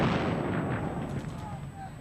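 Distant artillery fire rumbles through a World War II battle around Caen, a dense, continuous low roar with muffled booms blending together under steady background noise.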